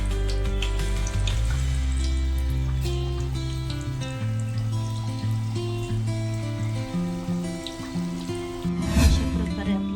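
Kothimbir vadi (coriander fritters) frying in hot oil, giving a steady, continuous sizzle that runs for the full stretch beneath louder melodic background music, with a brief bubbling surge near the end.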